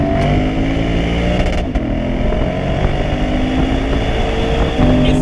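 A 2020 Lexus GS F V8 engine revving high, a loud sustained droning roar with steady harmonic tones and a brief dip partway through, heard close with no voices.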